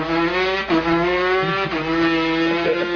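A voice imitates a two-stroke moped dirt bike engine, a buzzing, nasal drone with revving pitch rises and brief dips, continuous and close.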